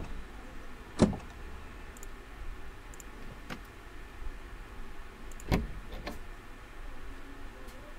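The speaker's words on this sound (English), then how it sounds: "That is a door, not a car door." A door, not a car door, opens and closes: two sharp knocks or thuds about four seconds apart, each with a faint rattle, over a quiet, steady background hum.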